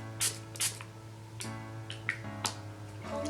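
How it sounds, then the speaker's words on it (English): Several short, soft spritzes from a bottle of setting spray sprayed onto a face, spaced irregularly, close and quiet against a low background hum. "I just shake it up a little bit and then spray it all"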